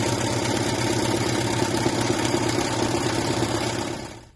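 An embroidery machine stitching a fabric face mask runs with a fast, steady mechanical chatter and motor hum, close and continuous, then winds down and stops near the end.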